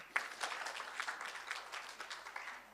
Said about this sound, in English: And a round of applause for Governor.